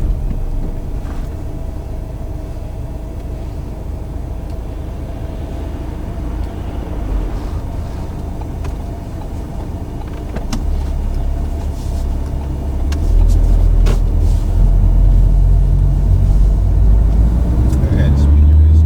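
A learner driver's car pulls away during a mock driving test, its steady engine and road rumble swelling louder partway through as it gathers speed, with a voice talking over it inside the cabin.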